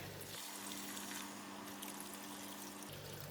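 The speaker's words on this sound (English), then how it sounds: "We're gonna add in some more water." Water pours into a pot of fish head curry made with Spanish mackerel, a faint, steady trickling stream that lasts a few seconds over a low hum and then stops.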